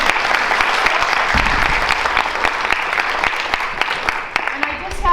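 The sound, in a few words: audience applause for Mr. Taylor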